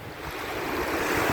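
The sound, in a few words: sea waves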